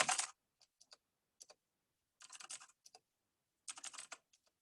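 Typing on a computer keyboard, a few quiet bursts of rapid key clicks separated by short pauses, close and alone with no talking.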